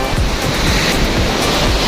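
Big ocean waves at a Batangas beach roar steadily, loud and close, as continuous surf wash with wind noise, no voices.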